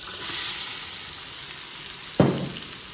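Small chopped onions fry in hot oil for a chicken biriyani, giving a steady, close sizzling hiss, with one sharp, louder crackle burst near the end.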